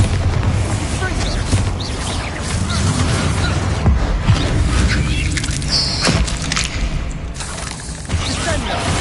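Bombarda and Confringo spell explosions in Hogwarts Legacy rumble and boom almost without pause through a dense battle, mixed with whooshes and a voice calling out amid the din.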